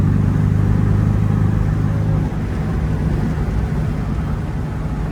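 A 1974 MG MGB roadster with its original exhaust drives along at speed, its engine a steady low drone mixed with road and wind noise that runs continuously and loud from start to finish.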